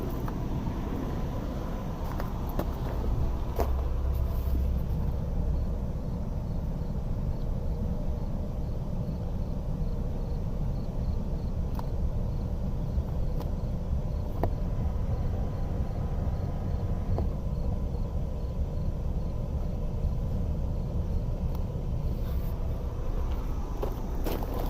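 Air ride suspension on a 2006 Pontiac Montana SV6 with a 3.5 L engine raising the vehicle: a steady, low mechanical drone of the air system runs unbroken for the whole stretch, with no talk.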